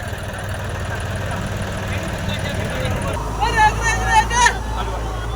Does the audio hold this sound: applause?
no